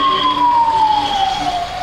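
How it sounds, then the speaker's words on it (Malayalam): A fire engine siren wails past on a street in Ernakulam, a single steady loud tone that slowly drops in pitch as it goes by, over road traffic noise. "ഫയർ എഞ്ചിൻ പറന്നു പോകുന്നുണ്ട്."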